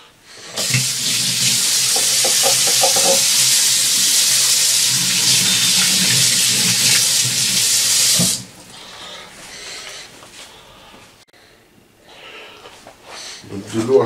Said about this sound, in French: Je lave les limons.